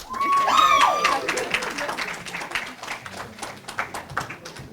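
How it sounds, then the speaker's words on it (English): Audience at a Santa Barbara Unified School District board of education meeting bursts into sustained applause and cheering after a unanimous vote, loud at first with a few whistles, then thinning into scattered claps and voices. "You can cheer."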